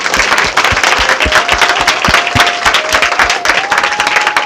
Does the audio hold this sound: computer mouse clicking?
no